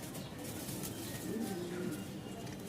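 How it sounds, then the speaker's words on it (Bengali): Pigeons coo in low, repeated throaty calls after being released at a pigeon farm in Mirpur, Dhaka, over a steady background of other birds and room noise. "সব কবুতর ছেড়ে দিলাম"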